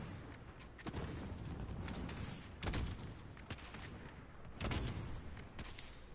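Repeated bursts of gunfire in Call of Duty: Modern Warfare, loud close volleys in an urban alleyway setting, spaced out a couple of seconds apart, with no talking.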